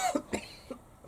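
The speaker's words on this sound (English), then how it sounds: "Cough, it's the dust." A single sharp cough from someone standing in dust on a building site, close and fairly quiet, followed by a softer throat-clearing sound with no talk around it.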